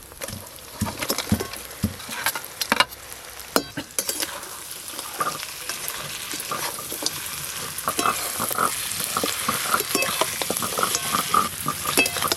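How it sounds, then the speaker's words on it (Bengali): Fried fish bones stirred into a frying spice paste in a pan, with a steady sizzle and repeated scraping stirs throughout. "এবার ভেজে রাখা মাছের কাঁটাগুলো দিয়ে দেবো"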